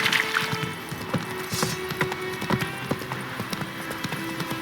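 Horse hooves pound rhythmically at a gallop in the video game The Witcher 3, a steady clip-clop close and prominent throughout, with faint ambient game sounds beneath and no clear speech.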